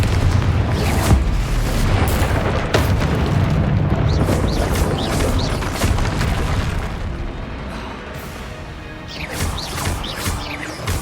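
Fiery Confringo spell blasts in Hogwarts Legacy on PS5, a run of loud booming explosions and crashing impacts that overlap one another across the whole stretch, dense and continuous with bright crackling bursts.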